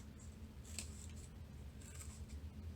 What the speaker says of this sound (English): I put those lines that I cut using my scissors.